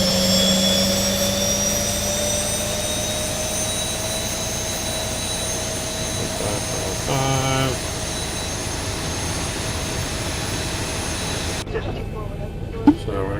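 A Boeing 737 jet engine in the X-Plane 11 flight simulator, on a Southwest flight, spools up with a steady, rising whine and a constant hum, joined by brief cockpit clicks and a voice speaking.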